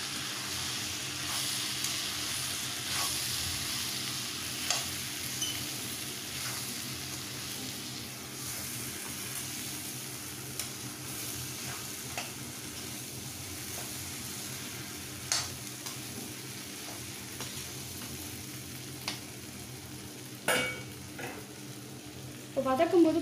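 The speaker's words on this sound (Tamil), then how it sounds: "நல்லா இதை கலரி விட்டுக்கோங்க." Vada curry is stirred and sautéed in a pan, giving a low, continuous sizzle with scattered spatula scrapes and taps, growing slightly busier near the end.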